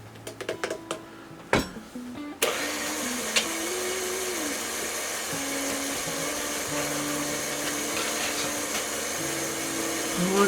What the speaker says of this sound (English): We're going to start adding our dry ingredients. To our mixer.